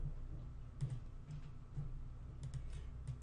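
Light, irregular keystrokes on a computer keyboard tap softly under a steady background hum, a few quick clicks spaced through the short stretch.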